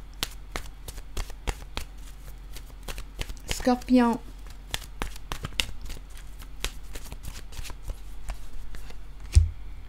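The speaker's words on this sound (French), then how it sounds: "je vais piger une carte de mon oracle de l'âme intuitive" Oracle cards being shuffled in the hands, a long run of quick crisp riffling taps close up, with someone speaking briefly over them.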